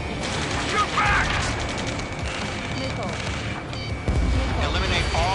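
Bursts of gunfire and rattling automatic fire in Ace Combat 7, loud and continuous, mixed with mechanical noises and a low boom, with radio voices shouting over the combat.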